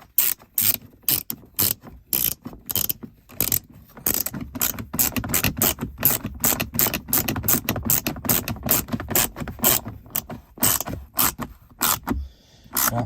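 A ratchet tightens the screw on a Volkswagen/Audi start-stop button, with rapid close pawl clicking in quick bursts and brief pauses, loud and clear with no talk.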